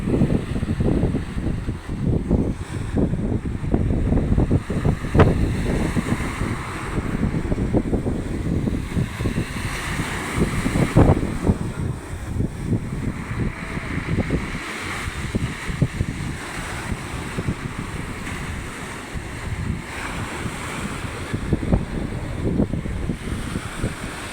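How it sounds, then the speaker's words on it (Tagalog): Big sea waves surge and crash steadily during the habagat monsoon, a continuous roar of surf mixed with strong wind buffeting the microphone at sea near a boat. "Sarado na, malalaki yung alon."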